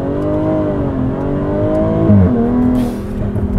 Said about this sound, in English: 2020 Jaguar F-Type. V6 Coupe Checkered Flag Edition. Launch control. Dynamic launch ready.